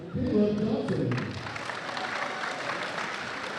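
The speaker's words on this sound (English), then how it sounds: "Please join me in applauding our seniors visiting from East." An audience at a high school senior night game breaks into applause for the visiting East seniors, a full burst of clapping that softens into a steady wash.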